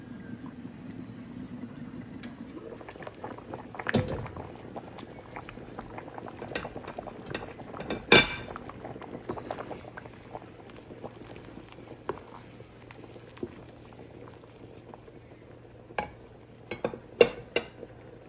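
Haleem of lentils and meat simmering covered in a pot, a steady low bubbling with soft pot clinks and a few sharp knocks scattered throughout.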